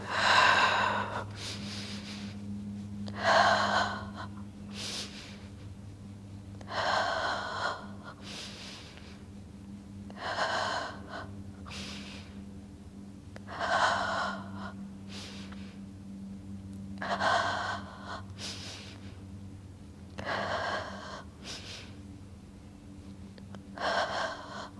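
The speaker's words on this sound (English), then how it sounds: "Take a deep breath in through your nose." Deep, rhythmic breathing during a Pilates hundred exercise on a mat, with about eight strong, audible breaths at a steady pace, close and alone over a quiet low background.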